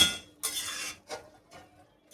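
A spoon scrapes and clinks against a kadai while carrot halwa is stirred, giving a few short metallic strokes of uneven loudness, close and clear with no talking.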